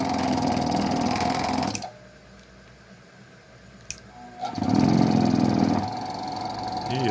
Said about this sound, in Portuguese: eu preciso de mais potência para dar partida lá no meu motor